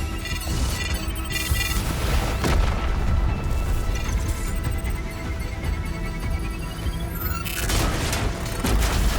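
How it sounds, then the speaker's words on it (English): A loud explosion in the video game Arknights: Endfield, with deep booms and crashing blasts layered over continuous dense game sound and music, sustained for several seconds without talk. "Tata's actually about to explode."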